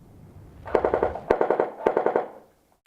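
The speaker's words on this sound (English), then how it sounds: "let's listen to the sound of the UMP" Double Eagle M89 UMP airsoft gun firing three quick bursts of rapid clicking shots, loud and close, each burst a tight rattling string of snaps, with no talk.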